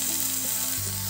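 Tomatoes sautéing with browned onion in a pan for dhaba-style palak paneer, a brief steady sizzle with a faint low hum underneath, close and even in level.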